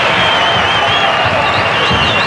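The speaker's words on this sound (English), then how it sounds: "Well, listen to the crowd." Rugby league stadium crowd in a match between Canberra Raiders and Easts, a steady broad roar of cheering and noise filling the whole stretch, loud and continuous without clear breaks.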